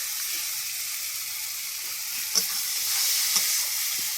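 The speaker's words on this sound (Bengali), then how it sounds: "ভাজা দিচ্ছি। এবারে টমেটোগুলো দিয়ে দিলাম, তারপরে আমি মশলাগুলো দেবো।" Fish, small puti, frying in a pan as tomatoes and spices are added gives a steady close sizzling hiss, with two brief sharper spits near the middle and no talking.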